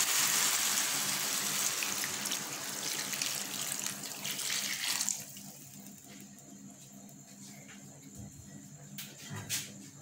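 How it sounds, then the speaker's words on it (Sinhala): Boiled water pours steadily into a cooking pot for a chicken pulao, a loud continuous gush for about five seconds that then drops to quieter trickles and small splashes. "දැන් මම මේකට වතුර මිලිලීටර් 900ක් දාගන්නයි හදන්නේ."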